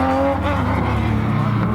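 A 2004 JDM race car heads out on track for a final time attack lap, its engine a loud, sustained drone with steady harmonic whine holding close and constant throughout.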